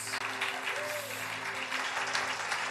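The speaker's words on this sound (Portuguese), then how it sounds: "Pode aplaudir Jesus." Church congregation applauding after a sermon reading, a steady moderate wash of clapping throughout with no talk over it.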